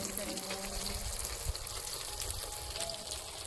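Lote fish sizzling as it fries in a pan of oil, a steady crackle with small pops and faint stirring sounds.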